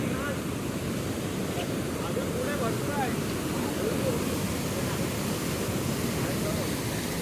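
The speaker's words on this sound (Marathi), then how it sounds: "ते तिकडं वरती वॉटरफॉल आहे मेन आपलं, आणि हे त्याच्या खालचं कुंड आहे" Channat waterfall in Mangaon, Raigad, pours into the pool below, giving a constant broad roar of falling water with wind buffeting the microphone and a voice speaking faintly at moments.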